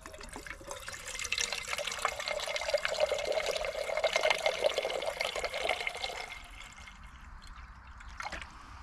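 Water pours steadily into a pot at a wild camping spot, measured out for boiling, a continuous near splashing trickle that tapers off after several seconds with a brief final drip.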